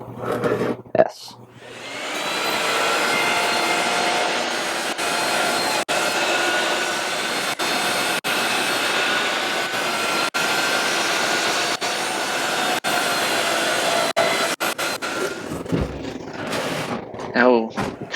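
A miter saw cutting plywood, a loud sustained motor whine through the cut, punctuated by brief clicks and breaks, with short bursts of voice near the start and end.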